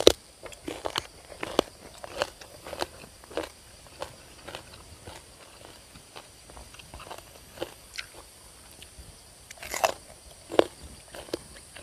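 Crunchy bites and chewing of spicy crispy pork skin served with papaya salad, a steady series of sharp crackling crunches close to the mic with no talk.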